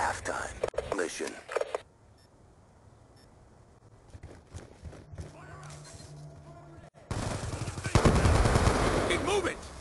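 Bursts of rapid video game gunfire crackle at the start and return loud and dense near the end, with quieter electronic game sounds and faint bleeps in between; no voices stand out.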